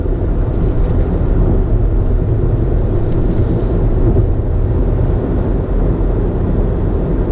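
A 2019 Hyundai Tucson Limited SUV driving, heard from inside as a steady low road and engine rumble, close and continuous with no talk.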